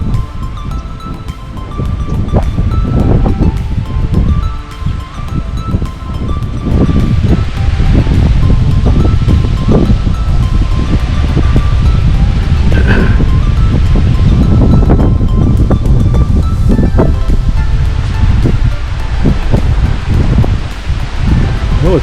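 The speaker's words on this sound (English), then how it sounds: "it's windy here" Strong wind in the open desert of Death Valley buffets the microphone nonstop for over twenty seconds, loud and roaring with gusty rustling and no speech.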